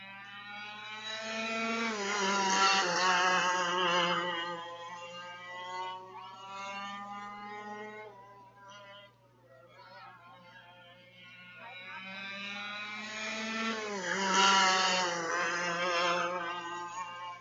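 Go-kart engines racing around a track, high whining revs that rise as karts pass, fade and return, with engine tone shifting as the drivers ease off and open the throttle again.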